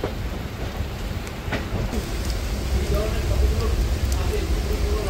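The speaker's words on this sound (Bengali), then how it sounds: "বাইরে অঝরে বৃষ্টি পড়ছে।" Heavy rain beats steadily outside a moving Kolkata–Digha special train, a dense constant hiss mixed with low rumbling from the carriage, continuous and fairly loud throughout.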